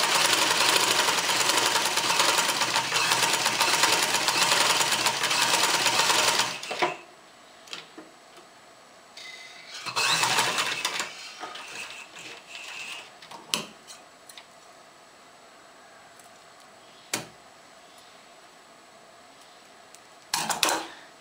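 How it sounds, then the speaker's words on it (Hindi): A sewing machine stitching along the curved edge of fabric while making a tassel, a loud continuous mechanical whir for several seconds, then a shorter burst after a pause, with scattered clicks and handling noises in the quiet stretches. "गुलाई के साथ साथ हमने सिलाई लगा ली है"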